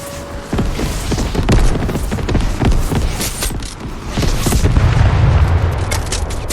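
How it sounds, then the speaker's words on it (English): A video game airstrike goes off in a rolling series of heavy booms and blasts, loud and close, layered over continuous in-game noise. "put an airstrike on there"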